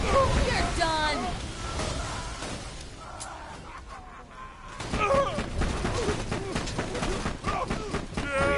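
Rapid gunfire from a gun in Borderlands 2 rattles in dense bursts, loud and close, with a short lull midway before shooting resumes, mixed with game effects and a voice talking over it.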